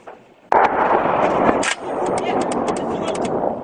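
Gunfire from a cannon during combat between French troops and Taliban fighters in Afghanistan: a loud, sharp blast opens with sustained rumbling roar and crackling echoes, with faint voices underneath.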